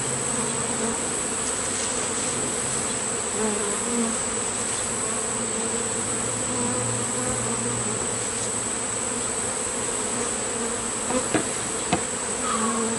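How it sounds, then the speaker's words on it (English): Honeybees buzzing in a dense, continuous drone around an opened hive during a September inspection, many bees flying close by, with a few faint knocks and clicks of hive handling. "There's a lot of bees flying right now."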